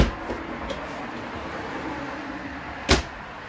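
Quiet RV toy hauler interior hum with a couple of soft knocks early on, then a sharper thud near the end as a deep drawer slides shut.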